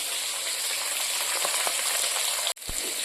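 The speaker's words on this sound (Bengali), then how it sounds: "আর এদিকে আমি বসিয়ে দিয়েছি বেগুন ভাজা।" Eggplant slices fry in a pan of hot oil with a steady, close hiss and crackle, broken by a sharp cut and a soft thud before the sizzle resumes.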